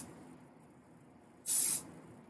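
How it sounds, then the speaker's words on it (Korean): Gas-type aerosol hair spray fires in one short, sharp burst of hissing, close and loud against a quiet room, lasting under half a second. "가스형 스프레이를 쏴주는 이유는 안쪽 머리에 가스형 스프레이가 침투했을 때 더 오래 볼륨을 살릴 수 있기 때문이고요"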